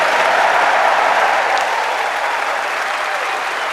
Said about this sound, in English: Another round of applause for Ons Jabeur.